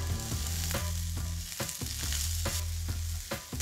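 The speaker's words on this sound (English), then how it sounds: "now you're gonna lower the heat, add in some garlic and some finely chopped kale" Garlic and finely chopped kale sautéing in a pan over lowered heat, a steady close sizzle broken by regular clinks and scrapes of stirring.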